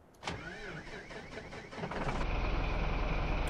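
A Volkswagen Constellation 19-320 truck in Farming Simulator 17 cranks with a whirring starter, then its diesel catches and settles into a loud, steady idle drone.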